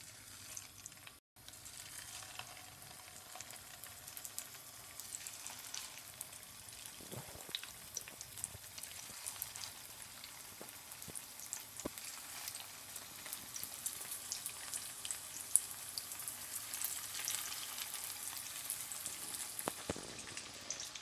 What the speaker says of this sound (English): heating it up in a pan so we can fry our cutlets